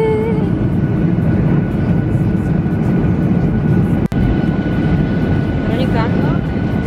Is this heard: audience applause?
no